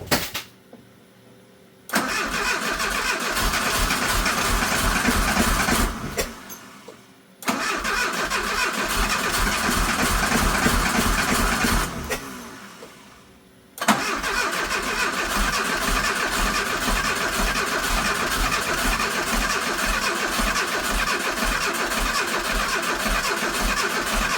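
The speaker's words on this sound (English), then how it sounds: "see if I can climb in here enough to maybe run the throttle and see if we can get this thing to take off" A 1985 Dodge Daytona Turbo engine cranks repeatedly in three long loud bursts of steady starter churning, separated by brief pauses, without catching.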